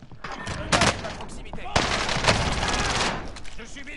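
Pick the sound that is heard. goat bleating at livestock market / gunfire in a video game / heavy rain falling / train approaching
gunfire in a video game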